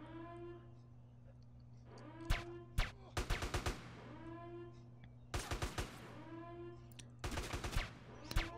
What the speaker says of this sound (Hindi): इनके बिल्कुल पास पास गोलियां चल रही हैं